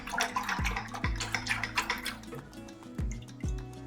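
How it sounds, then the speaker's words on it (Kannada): Water pours and drips into a bowl of masala buttermilk, a run of close, splashy drops and trickles at an uneven rhythm with no talking. "ನಾನು ಇನ್ನೊಂದು ಸ್ವಲ್ಪ ನೀರು ಆ್ಯಡ್ ಮಾಡ್ಕೊಳ್ತಾ ಇದ್ದೀನಿ"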